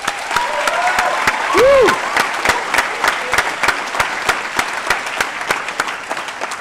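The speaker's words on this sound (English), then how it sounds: "You all deserve another big round of applause." A university convocation audience claps steadily while a single voice whoops loudly partway through, the clapping thinning to scattered individual claps near the end.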